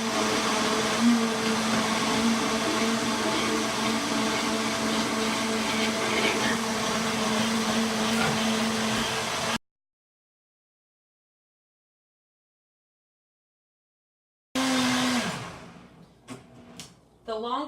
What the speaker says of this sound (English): And here's where we blend it up.